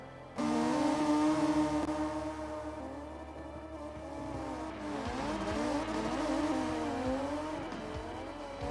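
A high-horsepower drift car heard from the driver's seat, its engine roaring loud and steady with rising and falling revs as the tires squeal through long slides, no talk over it.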